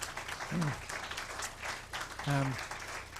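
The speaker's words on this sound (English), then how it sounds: "Please give them a big round of applause." An audience applauds at an evening year-review event, a moderate spread of clapping with voices calling out over it in two short bursts.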